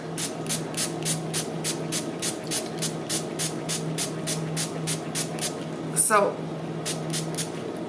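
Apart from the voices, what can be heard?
spraying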